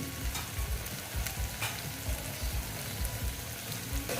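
Spices such as Kashmiri red chilli powder and turmeric frying in oil for a koi fish curry in mustard-poppy paste, a close continuous sizzle with soft stirring bumps and no talk.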